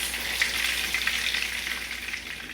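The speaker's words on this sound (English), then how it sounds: "I finished frying my fritas." Cuban frita burger patties with chorizo sizzling in hot oil, a steady crackling hiss with small pops, close and continuous with no talking.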